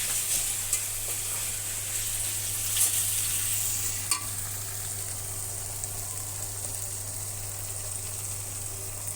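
Chickpeas and onions fry in a home kitchen pan, giving a steady, close hiss of oil with light stirring scrapes and occasional soft clinks throughout.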